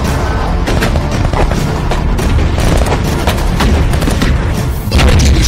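An explosive breaching charge blasts during a commando room entry in training, with loud, dense booming and rapid gunfire-like bangs sustained throughout and no pause.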